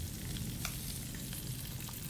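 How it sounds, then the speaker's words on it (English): Steady, close sizzling of chicharon frying in hot oil in a pan, a continuous crackling hiss with no voices. "when it starts to sizzle less, after turning it, it's all done"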